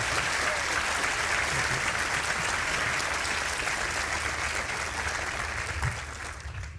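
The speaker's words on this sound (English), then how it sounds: "Please give a round of applause to Dr. Fauci and to Valerie Biden Owens." An audience at a workshop fireside chat applauds steadily after the talk with Dr. Anthony Fauci and Valerie Biden Owens, even continuous clapping that fades slightly toward the end.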